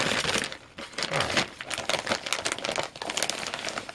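Packaging on a roll of electrical cable is cut open with close, loud crinkling and tearing of plastic in irregular bursts, no talk.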